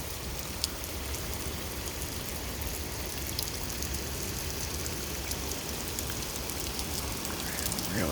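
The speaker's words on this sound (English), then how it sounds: "Here comes the rain again." Steady rain falls during an early-morning thunderstorm, a dense continuous hiss of drops on surfaces throughout with no clear thunder, even and close.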